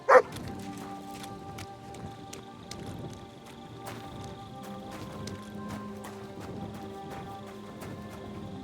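A dog in the video game Kingdom Come: Deliverance 2 gives a quick yip or bark at the very start, followed by faint, scattered dog sounds over a steady ambient game background.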